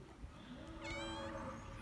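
A pregnant cat gives a single drawn-out meow, close and clear over low outdoor background noise.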